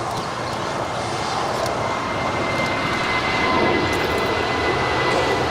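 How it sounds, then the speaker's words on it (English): Emirates Airbus A380 on Flight 215 in 50th-anniversary livery departs Los Angeles for Dubai: a steady, loud broadband jet roar that holds and swells slightly, with no voices. "you're looking at Emirates Flight 215 in the year of the 50th livery, heading back to Dubai"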